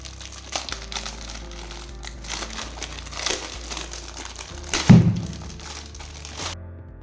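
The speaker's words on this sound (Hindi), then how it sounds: "चलिए हम इसे पॉलीथीन के बाहर निकाल लेते हैं।" Polythene bag crinkling and rustling as a small Razer Huntsman gaming keyboard is pulled out, with continuous close crackles and a sharper thump near the middle.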